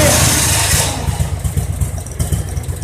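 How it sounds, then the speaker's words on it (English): A 15 kW generator engine running on biogas, started with the choke pulled, catches with a loud burst, then settles into a steady, throbbing idle. "I pull the choke out for starter, I start the engine, and then push the choke"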